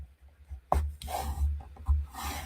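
A bone folder burnishes the fold of a heat-embossed handmade card, giving soft, close rubbing and sliding strokes with a few sharper taps, quiet and uneven over a couple of seconds.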